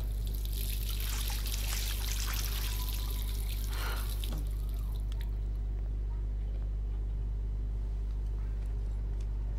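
Water pouring and trickling in a Life is Strange game scene, a bright splashing stream for about five seconds over a steady low hum, then fading out to quiet.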